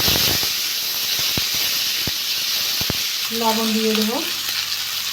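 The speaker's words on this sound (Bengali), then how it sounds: "আমি টমেটো আর আদা বাটা দিয়ে দেবো" Tomato and ginger paste hits hot oil already holding fried whole cumin and bay leaves, setting off a loud, steady sizzle with crackling pops and a few spoon strokes; someone speaks briefly near the end.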